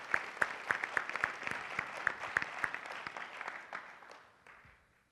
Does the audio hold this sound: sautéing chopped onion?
no